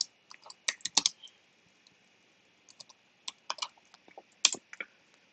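Keys clacking on a computer keyboard as a terminal command is typed, a few quick bursts of close, crisp taps separated by short pauses.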